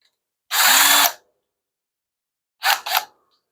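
A power drill fitted into a concealed hinge jig whirs in a half-second burst, then gives two quick short pulses after a pause, close and clear in a quiet room.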